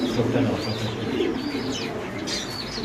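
Pigeons coo in low, rolling bursts at a pigeon sale, with faint chirps and some wing flutter in a busy, steady background.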